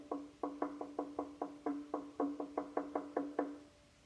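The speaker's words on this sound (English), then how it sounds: "then knocked on his friend's door" Knuckles rap on a door about sixteen times in quick, uneven bursts, crisp and close, with nothing else heard around them.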